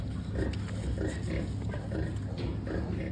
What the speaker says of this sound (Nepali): आज चाहिँ यो सुँगुर बिरामी छ